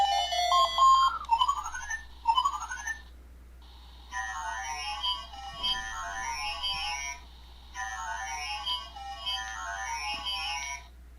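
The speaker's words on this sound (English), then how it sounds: "I can kind of hear the sampling of the music." Sampled chiptune music from the Rally-X game on a Tiny Arcade handheld, bright beeping melodic phrases repeating in short bursts with brief gaps, near and fairly clear.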